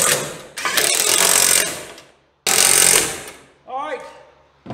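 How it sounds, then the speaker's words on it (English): An arc welder tacks bolts in place on a 1940 Chevy coupe during pedal installation. Two long, loud, crackling bursts with a short pause between them, then a brief voice. "I'll drag that welder over here and we will weld them bolts in place"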